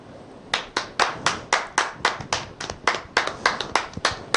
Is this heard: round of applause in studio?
yes